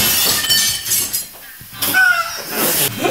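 A pane of glass is struck with a gun and shatters in bright, crashing bursts, with scattered shards tinkling and a second breaking crash following after a short lull.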